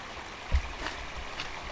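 Water flowing steadily in an outdoor stream, a constant rushing wash heard close up, with one brief low bump partway through.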